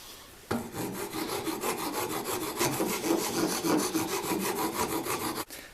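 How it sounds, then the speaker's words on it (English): Rhythmic rasping of a file worked back and forth across rough wooden joins and edges, steady strokes close by, with no voices. "Some of the joins and edges are a bit rough, so I'm going to clean them up with the file"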